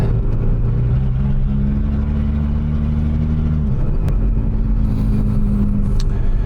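A Datsun 280Z with an L28 engine and straight pipe exhaust drives along the road, its loud, raw engine droning steadily up close, the pitch holding and then dropping as the revs change.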